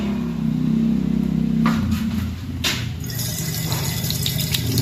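Water runs steadily from a tap in a campsite lavatory at a lakeside resort, a continuous hiss and splash heard close up with no talking over it.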